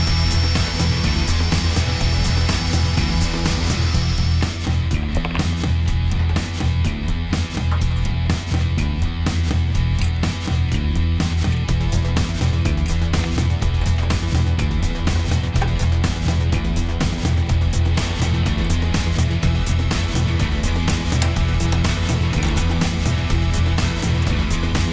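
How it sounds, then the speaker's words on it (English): A drill runs continuously for a long stretch, boring out a rivet hole in a metal locker door. Its loud, steady motor whine has gritty, irregular grinding as the bit cuts through. "So I just need to drill that one."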